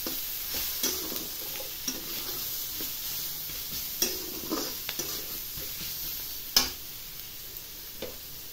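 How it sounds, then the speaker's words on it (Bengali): Chilli, turmeric and coriander powders fry in a pan with a soft, continuous sizzle, punctuated by scattered taps and scrapes of a utensil stirring, with one louder knock near the end. "এই যে সামান্য ভাজা ভাজা করছি।"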